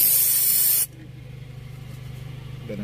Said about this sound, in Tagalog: Alright, silicone spray. Ispray lang natin sa gilid dyan.